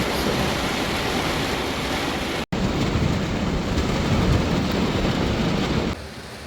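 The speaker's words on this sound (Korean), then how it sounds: "비가 계속 내리고 있어요" Heavy rain drumming steadily on a car roof during car camping on Jeju Island, a loud dense continuous wash heard from inside the vehicle, with one brief dropout and a slightly quieter final second.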